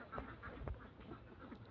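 Ducks on a farm enclosed by netting, a few faint, distant quacks over low background noise.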